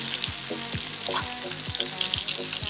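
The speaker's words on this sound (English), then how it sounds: "So we're just going to spoon some of this garlic butter on the fish here." Fish sizzles in garlic butter in a pan, a close, steady frying hiss broken by regular soft spoon clinks as butter is basted over it, with no voices.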